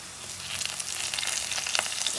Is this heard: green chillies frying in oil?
yes